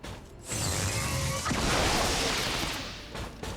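A shot striking an enemy turret in XCOM 2: War of the Chosen, a sudden loud burst followed by a dense, crackling impact roar that swells and slowly fades over a few seconds.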